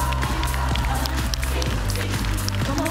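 Theatre audience at a Paris student stage showcase applauding the performers, dense continuous clapping with a few cheers over low music, loud and sustained from start to finish.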